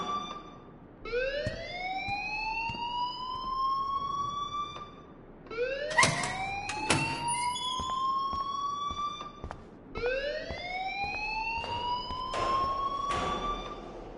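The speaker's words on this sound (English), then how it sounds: "please turn off that alarm since that's your job." An alarm blares in the video game Life is Strange: three long rising electronic wails, each climbing in pitch and then holding, with brief clanging hits between them.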